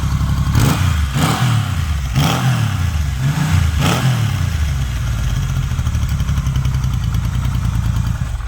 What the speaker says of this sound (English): This little exhaust note on this thing, man.